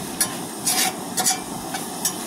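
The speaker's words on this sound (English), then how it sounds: "We got the meat on to cook." Meat cooks in a pan for spaghetti, with a soft steady sizzle broken by several scraping stirs of a utensil, close and alone.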